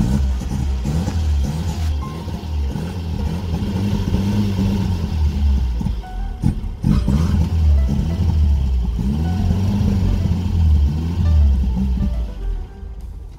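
Idling engine of a 1977 Vauxhall Cavalier MK1 fitted with a Weber 32/36 DGV carburettor on a warm day, running steadily and loud with a low rumble and slight rhythmic unevenness throughout.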